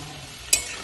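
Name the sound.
garlic frying in oil for fried rice and chilli chicken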